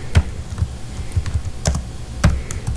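Keys on a computer keyboard are struck while code is deleted: a handful of sparse, crisp taps, close and clear, with quiet gaps between them and no talking.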